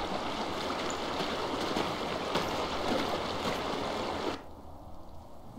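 Rushing water from a waterfall in Warcraft 3 Reforged pours as a dense, steady hiss for about four seconds. It then drops away abruptly to a much quieter background.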